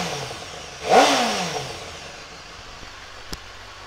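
A 2017 BMW S1000RR sport motorcycle with standard exhaust fires up with a sharp rev that quickly settles into a low idle, close by, with a brief blip near the end.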